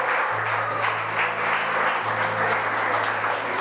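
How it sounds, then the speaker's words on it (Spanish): A church congregation applauds during a pastoral meeting, steady broad clapping from many hands filling the room, moderately loud and continuous, with a low hum beneath and no talk over it. "¿Cuántos le damos un aplauso?"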